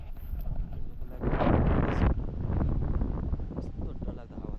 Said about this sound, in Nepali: कस्तो डरलाग्दो हावा चल्दैछ यहाँनिर